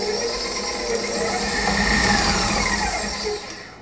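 An electric mixer whirs steadily while creaming sugar and butter for gluten-free Oreo cookies, a close, continuous motor hum with a slight rise and fall in pitch and no talking.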